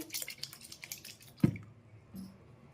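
Hands rub and swish matar dal lentils in a bowl of water, with soft wet splashes and squelches and one sharper slosh midway, quiet and close.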